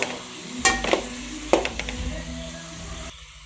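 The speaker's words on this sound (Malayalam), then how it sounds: "ഈ കൂണിലേക്ക് ഈ മസാലയൊക്കെ നന്നായിട്ടൊന്ന് ഇളക്കി ഒന്ന് മിക്സാക്കി കൊടുക്കുക" Mushrooms coated in masala are stirred in a pan, with a few distinct scraping clacks of a spoon against the pan over a soft background sizzle that cuts off near the end.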